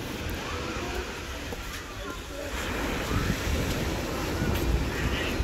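Sea surf rolling onto the sandy shore of Uchkuevka beach near Sevastopol, Crimea, a steady broadband wash of breaking waves with some wind buffeting the microphone, continuous and fairly loud throughout.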